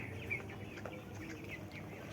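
Broiler chickens cluck and chirp softly in a flock while feeding, small overlapping calls at a moderate distance.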